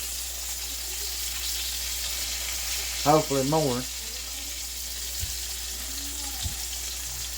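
Cajun pork chops frying in a pan, a steady soft sizzle throughout with a brief spoken phrase in the middle and a couple of faint knocks as they are flipped.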